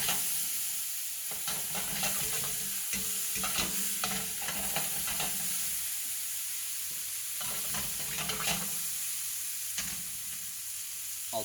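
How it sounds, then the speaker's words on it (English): Sliced sausage rounds fry loudly in a pan for gumbo, a busy close sizzle broken by repeated bursts of stirring and tossing, with no one speaking. "How about some more of that little obligatory sausage sizzle?"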